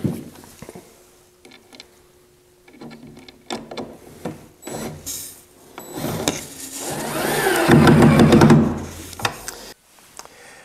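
A drill driving pocket screws to fix splayed legs onto a mobile kitchen island, several short whirring bursts with pauses and a longer loud rising whine near the end, close up and without speech.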